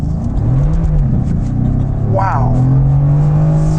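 A 503 hp rear-wheel-drive Mercedes-Benz C63S AMG accelerating hard, its engine note rising steadily in pitch as it pulls, loud and close inside the cabin, with a brief spoken exclamation partway through.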